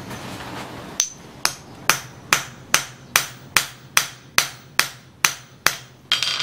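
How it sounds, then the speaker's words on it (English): A hammer strikes tungsten metal about a dozen times in a steady rhythm, each blow a sharp, ringing clank that fades quickly before the next. "If I can find a hammer,"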